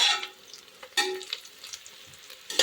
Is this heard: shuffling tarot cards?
no